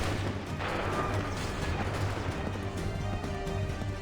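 A massed musket volley rings out in Assassin's Creed 3 on Nintendo Switch, a broad rumbling burst over steady battlefield din, with no distinct single shots.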